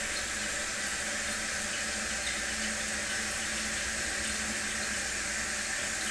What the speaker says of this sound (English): watching a toilet fill up with water